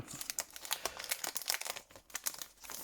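A small cardboard box being opened: a dense run of crinkling, tearing and crunching bursts, irregular and close, fairly quiet, with no talking.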